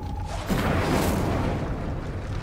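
Fire spell blast in Hogwarts Legacy, a loud booming whoosh of flame that swells and then holds as a dense roar for about two seconds, close and without speech.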